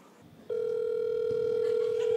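Telephone tone while calling a hacker: a steady electronic tone starts abruptly and holds unbroken for nearly two seconds over faint room noise, fairly loud and close.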